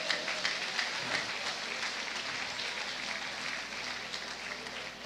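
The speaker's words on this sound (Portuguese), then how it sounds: "Aplauda Jesus pela vida daquele profeta ali" Sustained applause from a large church congregation fills the space, steady and dense throughout with scattered individual claps standing out.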